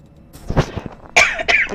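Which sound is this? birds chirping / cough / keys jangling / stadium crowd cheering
cough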